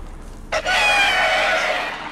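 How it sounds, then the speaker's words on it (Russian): A rooster crows in The Witcher 3: Wild Hunt, a single loud, drawn-out call that bursts in sharply and holds steady for over a second, with no talking over it. "О, реально петух."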